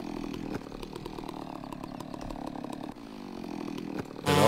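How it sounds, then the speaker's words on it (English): A video game chainsaw in Farming Simulator 17 drones steadily at high revs, loud and close, with brief dips and surges in pitch as it cuts trees. "And I'm going to cut down some trees."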